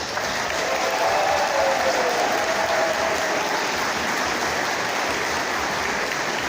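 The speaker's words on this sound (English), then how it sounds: "big round of applause, please." Audience at an outdoor vegan camp-out talk applauds steadily for several seconds, a dense, even wash of many hands clapping with no speech.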